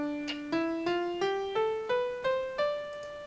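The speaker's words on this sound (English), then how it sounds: "And a Dorian scale would sound like this." D Dorian scale on a keyboard, rising stepwise in eight evenly spaced notes, each struck cleanly and decaying into the next. Solo and close.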